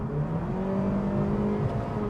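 A 2023 Mazda CX-3 2.0-liter engine accelerates with a steady, droning rise, heard from inside the cabin.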